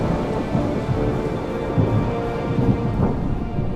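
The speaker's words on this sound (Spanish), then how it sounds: "se pueden ver destellos de luz, llamados relámpagos, seguidos por un estremecedor sonido de un trueno" Thunder rolls and rumbles through a heavy thunderstorm, loud and continuous, with dense rain pattering throughout.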